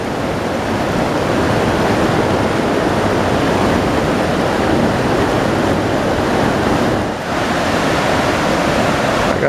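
The Kern River rushing along a High Sierra trail, a loud, continuous broadband roar of flowing water heard close by, steady throughout with only a brief dip, no talking.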